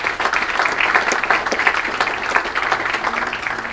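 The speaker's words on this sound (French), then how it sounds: "qu'on peut applaudir chaleureusement." Warm applause from a press-conference audience greeting the three festival jurors, a dense steady patter of many hands held at an even level for a few seconds without a break.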